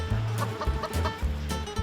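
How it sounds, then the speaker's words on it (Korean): Chickens clucking as they roam a Red Hyang tangerine orchard on a Jeju farm, a busy overlapping stream of close, loud clucks and short squawks against outdoor noise. "그때 인터뷰를 방해하는 닭들?"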